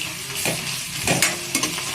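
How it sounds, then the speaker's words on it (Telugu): Crushed ginger-garlic paste, hand-pounded rather than ground, hits hot oil in a pan for a mushroom curry and sizzles steadily, with a few sharp spoon scrapes as it is stirred; no one speaks. "ఇప్పుడు అల్లం వెల్లుల్లిపాయ పేస్ట్, అంటే దంచి వేసుకుంటున్నాను, మిక్సీలో కాదు."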